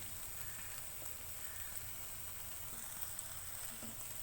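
Eggs frying in a pan of aanda ghotala made with boiled potatoes, giving a faint, steady sizzle with a few soft crackles and no voices.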